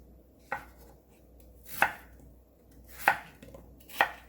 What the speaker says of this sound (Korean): 닭이 졸여질 동안 감자하고 당근하고 야채 손질합니다.